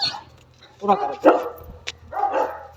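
A dog barks several times in sharp, close bursts with short gaps, and a person's voice is mixed in between the barks.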